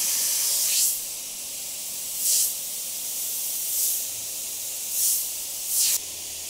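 An airbrush with a 0.35mm needle and nozzle sprays strained paint in five short, evenly spaced hissing bursts over a steady background hiss from the compressor and air line.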